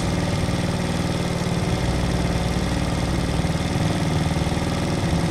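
Small 70cc single-cylinder engine of a Cerro C70 motorcycle idling at a raised, steady speed while its carburetor is being adjusted, a continuous close, loud putter with an even rhythm and no talk over it.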